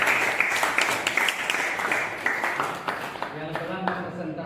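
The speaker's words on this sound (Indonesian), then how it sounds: "Berikan aplaus yang baru untuk kelompok" A classroom audience claps for a group that has just given its presentation, with brisk scattered applause running throughout under someone speaking over it.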